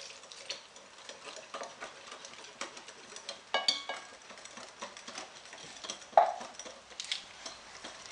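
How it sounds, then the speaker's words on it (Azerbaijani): A spoon slowly stirs cocoa cake batter thinned with water in a bowl. It makes quiet, irregular scrapes and light clinks against the sides, close and soft, with no talking. "yenə də yavaş-yavaş qarışdırıram"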